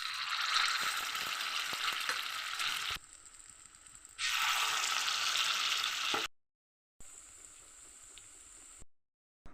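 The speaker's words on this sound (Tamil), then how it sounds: "எண்ணெய் சூடானதும் மாவை ஊற்றிடலாம்." Peanut and wheat flour batter fries in an oiled kuzhi paniyaram pan, giving a bright, steady hiss that dips quieter, surges back, then breaks off in abrupt silences before resuming softly.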